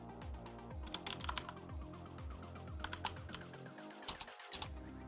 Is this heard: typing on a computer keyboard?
yes